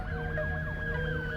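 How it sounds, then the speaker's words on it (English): A wailing emergency siren rising and falling in a repeated sweeping pattern, loud and continuous against a low rumbling background. "A siren?"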